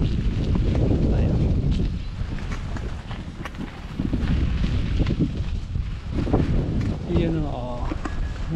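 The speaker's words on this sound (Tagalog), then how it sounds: "lakas ng hangin" Strong gusts buffet the microphone in a steady low roar at Sembawang Beach, Singapore, with a voice speaking briefly over the rumbling wind.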